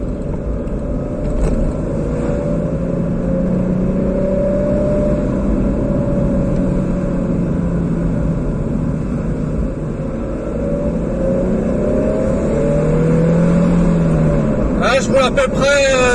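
A Nissan 350Z engine pulls hard at full throttle around 5000 rpm, a steady loud drone with droning harmonics throughout, while a person talks over it.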